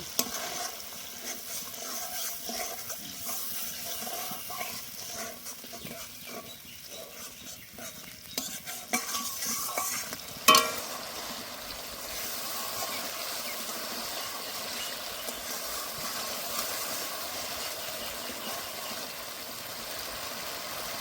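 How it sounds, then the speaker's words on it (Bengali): Grated tomato puree is stir-fried in a pan, a soft steady sizzle with spoon scrapes and a sharp clink near the middle, fairly quiet and without talk. "এখন দিয়ে দেব এই পিউরিটা, আবারও বেশ কিছুক্ষণ কষে নেব।"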